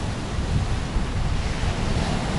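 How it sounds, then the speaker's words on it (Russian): Steady roar of sea waves crashing and surging at Sochi during a storm, loud and continuous with heavy wind noise buffeting the microphone. "Гляньте, какие здесь волны"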